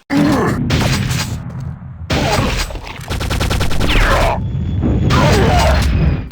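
A shotgun in a first-person shooter fires in heavy, booming blasts with pellets thudding into targets, dense and loud throughout, alongside game groans and impact noise, and a voice talking over it.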